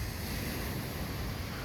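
Ocean surf washes onto the sandy beach at Hilo Bay, Hawaii, a continuous broadband rush mixed with gusty wind buffeting the microphone, with no one speaking.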